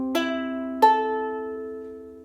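Flight NUS350 Dreamcatcher soprano ukulele tuned GCEA, two bright plucked strums that ring out and decay slowly, close and clear, with no talk.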